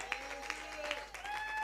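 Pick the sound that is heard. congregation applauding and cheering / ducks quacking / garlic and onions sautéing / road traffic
congregation applauding and cheering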